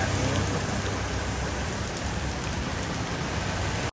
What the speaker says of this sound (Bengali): সৌদি আরব হাইলে আজকে প্রচুর বৃষ্টি